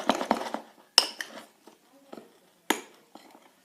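A spoon stirs butter slime in a bowl, giving a few sharp, close clinks against the bowl between soft, quieter scraping sounds.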